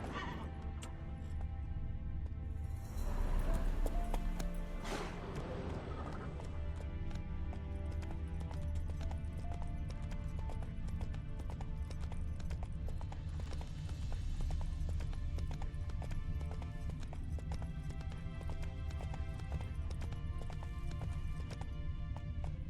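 Roach, the horse in Witcher 3, trots with steady, rhythmic clip-clop hoofbeats that go on for the whole stretch. A louder burst comes early with a brief whinny-like rise, all laid over an ambient in-game background.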